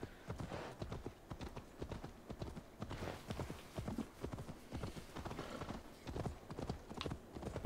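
Horse hooves clip-clop steadily in Assassin's Creed Valhalla, a close, continuous rhythmic trot of the in-game mount running alone without talk.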